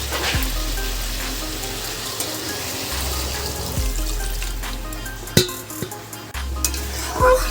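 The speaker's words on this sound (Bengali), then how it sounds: "কষানো একদম রেডি এবার আমি জল অ্যাড করে দেবো" Water is poured into a pan of sautéed spices for a drumstick curry. It makes a splashing, bubbling rush over a low background hum, broken by a few sharp clinks and knocks of utensils against the pan.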